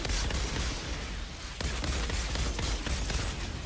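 Dense, continuous gunfire from the video game Outriders, rapid overlapping shots with sharp transients at a constant loud level throughout, with no one talking over it.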